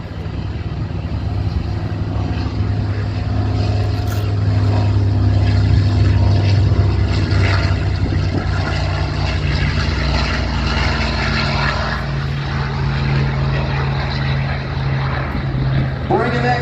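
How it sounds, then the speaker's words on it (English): A Hawker Sea Fury propeller fighter makes a low, gear-up pass at the Central Coast Airfest airshow, its loud piston engine drone roaring steadily throughout. "Dennis Sanders flying the Hawker Seafarer that they call 924."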